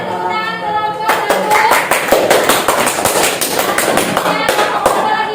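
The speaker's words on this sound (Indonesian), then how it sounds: "Dan ada tepuk tangan kelompok 1." Classroom applause for a student group after their presentation: a burst of many hands clapping, fairly close and loud, with scattered voices mixed in, rising after a quiet opening moment.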